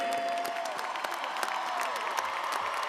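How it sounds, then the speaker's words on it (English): A commencement crowd claps steadily at a 2022 undergraduate graduation ceremony, a fairly distant, even wash of applause with a few light cheers. "Let's give him a round of applause again."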